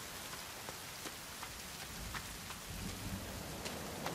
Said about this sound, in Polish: deszcz zaczyna padać